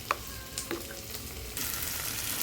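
Ground spice paste for a rohu fish curry sizzling and being stirred in a hot pan, a steady frying hiss with a few scraping stirs, growing louder and denser in the last second, no voices.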